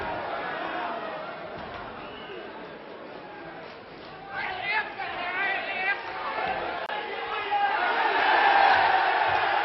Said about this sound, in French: Le public proteste. Le public encourage.